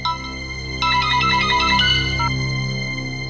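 A mobile phone ringtone plays indoors in a domestic drama scene, a bright electronic melody of quick repeated notes that starts abruptly and fades out after a couple of seconds.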